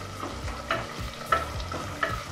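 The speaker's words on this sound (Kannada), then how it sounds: "ನಾವೊಂದು ಒಗ್ಗರಣೆನ ಲೋ ಫ್ಲೇಮಲ್ಲೇ ಮಾಡ್ಕೊಳ್ತಾ ಇದ್ದೀವಿ" Onions frying on a low flame for mint rice pulao, a soft continuous sizzle broken by a few scraping stirs of a spoon in the pan, close and alone with no talk.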